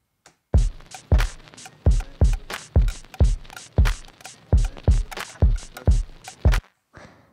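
A shaker-driven drum pattern in a beat plays steady, evenly spaced punchy hits with a bright rattling top, about a dozen strikes looping over several seconds before cutting off.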